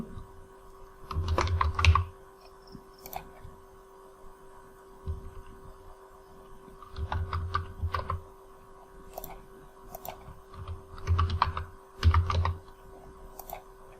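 Names are typed into Microsoft Access 2010 on a computer keyboard in short bursts of clicking keystrokes separated by quiet pauses, over a steady low electrical hum.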